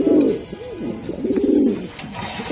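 Black racer pigeons coo close by in a run of soft, rolling, throaty calls, rising and falling in repeated bursts with no talking.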